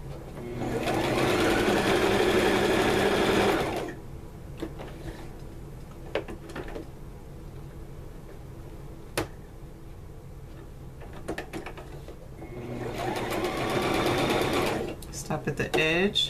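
A sewing machine stitches a quilt strip in two short bursts of rapid, close whirring, with quieter handling clicks and talking in between.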